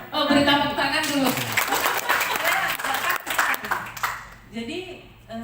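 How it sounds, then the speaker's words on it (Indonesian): An audience at a talk show gives a brief round of applause, a dense wash of clapping that swells and fades after a voice speaks, with talk resuming at the end. "beri tepuk tangan dulu"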